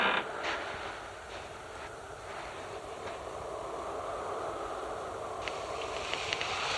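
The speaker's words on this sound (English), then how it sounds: "Just the wind." Wind hisses and moans steadily at moderate level, with faint creaks and brief gusting swells rising now and then.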